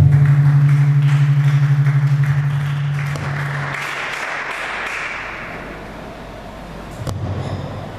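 A church congregation bursts into applause after the Gospel reading, a broad wash of many clapping hands that swells after a sustained tone fades, then thins out and rises again briefly near the end.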